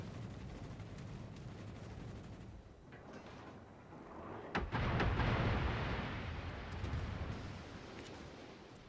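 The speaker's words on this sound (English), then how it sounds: "We've blown up an Allied destroyer." Destroyer blowing up in the naval battle game World of Warships: a sharp blast near the middle followed by a heavy, rolling rumble of explosions over constant low battle noise.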